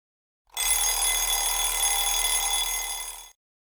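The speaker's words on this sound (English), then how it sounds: "Suddenly my alarm rings and I jump up." An alarm clock rings in one steady, continuous bright electronic tone for about three seconds, then cuts off abruptly, loud and close with silence on either side.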